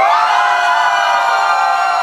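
A crowd cheering and shouting at a live drag comedy show, a loud continuous wall of whoops and screams with no individual voices standing out.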